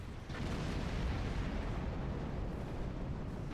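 Gravimetric torpedo explosion in the space game Star Trek Online: a deep rumbling blast swells up after a brief lull and then holds as a low, sustained roar with no voices over it.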